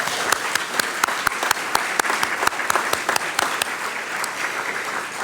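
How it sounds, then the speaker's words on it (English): An audience at a business leadership awards ceremony claps to thank volunteers, a steady, loud round of applause with sharp individual claps running through the whole stretch and no talking over it. "So can you all join me in thanking them again with a round of applause?"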